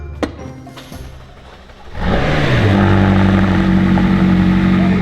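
A rebuilt McLaren's engine cranks and catches, then settles into a loud, steady close-up idle with a rising hum after a brief quieter lead-in of mechanical clicks.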